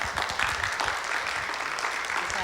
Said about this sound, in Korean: 그래서 나올 때 한번 박수 쳐주시고